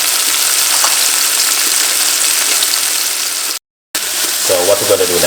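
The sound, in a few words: spring onion frying in a pan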